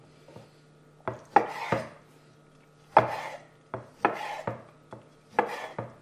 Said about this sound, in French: C'est un citron confit, j'ai pris soin de le rincer à l'eau et on va le couper en gros morceaux